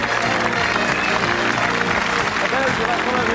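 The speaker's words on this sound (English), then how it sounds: "Let's give them all a nice round of applause." Studio audience applause on a television game show, a dense continuous wash of clapping held at an even loud level, with a musical tone and a voice faintly underneath.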